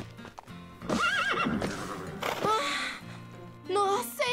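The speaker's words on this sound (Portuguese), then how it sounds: "Esse aí é o meu cavalo, Wonder." A horse neighs loudly and whinnies in a cartoon scene, with hooves clip-clopping and brief snorts or gasps mixed in over a few seconds.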